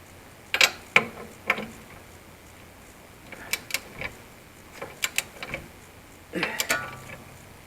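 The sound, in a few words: torque wrench tightening Lexus rear shock absorber bolt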